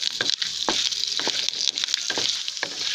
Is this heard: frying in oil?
yes